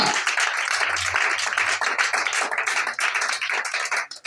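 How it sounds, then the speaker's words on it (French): Audience at a church sermon applauding: dense, sustained clapping from many hands, moderately close and steady, fading slightly toward the end, with no speech over it. "Acclame, si tu comprends."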